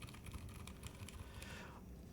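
Typing on a small mechanical keyboard, a quick, steady run of soft clacky keystrokes at close range, faint and alone without talk.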